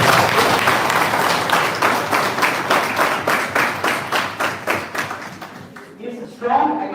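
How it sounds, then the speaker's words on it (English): An audience applauds an entrepreneur introduced at an Entrepreneurship Day celebration, with rhythmic, fairly loud clapping that gradually thins out and fades after about six seconds, followed by a brief murmur. "Give him a big round of applause."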